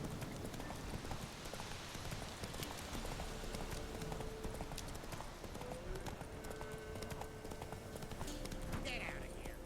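Horse hooves clip-clopping steadily at a slow walk in the Witcher 3 video game, a quiet rhythmic patter under ambient game sound.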